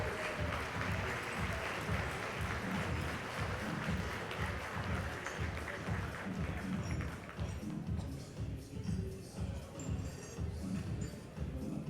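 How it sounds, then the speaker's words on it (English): An audience at an awards ceremony claps for the winners, a steady sustained round of applause that fades a little toward the end. "Another round of applause to all our award winners."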